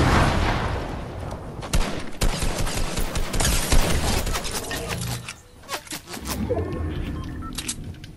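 Fortnite gunfight with rapid bursts of gunfire, dense volleys and sharp single shots, loud and close, with a short lull near the middle before more shots.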